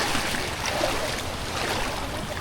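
A private boat ride on the water at Nivati beach in Konkan, with steady broadband rushing of water and motor noise, continuous and close, with no talk.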